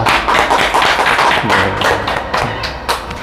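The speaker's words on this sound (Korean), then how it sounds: "함께 박수로 환영하겠습니다." A church congregation claps in welcome during a worship service, with dense, somewhat uneven hand claps that hold steady for a few seconds. The clapping is nearby and fairly loud, and no one speaks over it.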